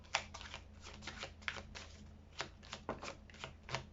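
Tarot cards shuffled and cut by hand, a quiet run of crisp riffling snaps and soft slaps in an uneven rhythm, close and alone without talk.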